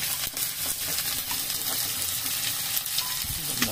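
Onions fry in hot oil in a kadai for a clay-pot mutton dish, a dense, loud, continuous sizzle with steady crackling and no talk.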